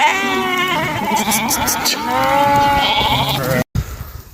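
Several sheep bleat loudly and close by, overlapping wavering cries one after another, with a brief dropout near the end.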